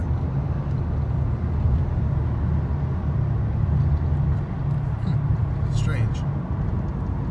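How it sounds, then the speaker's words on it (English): Chevrolet Impala engine surging while trying to shift gear, a steady low rumbling drone that holds throughout, with faint higher chirps near the end. "When it tries to shift gear, it like goes crazy. And it begins surging like that."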